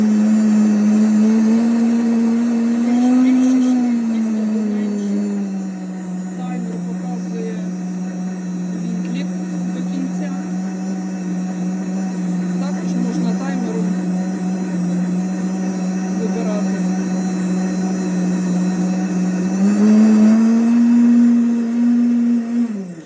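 A JTC OmniBlend TM-900 professional high-power blender with a 1.5-litre jar runs continuously with a loud, steady motor whine, pitch dipping slightly as it loads and rising again near the end before cutting off.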